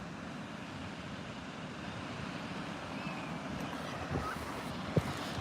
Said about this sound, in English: You ought to be able to hear the ocean in a minute.